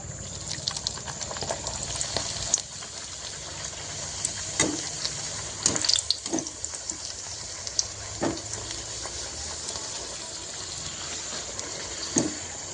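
Puris frying one at a time in hot oil, a continuous bright bubbling hiss with occasional louder spits and pops, steady and close, with no one talking over it.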